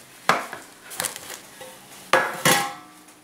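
Four hollow knocks on the bottom of a baked raisin nut bread loaf, spaced in two pairs, close and distinct with quiet between them.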